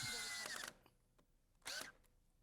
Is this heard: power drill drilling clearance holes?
yes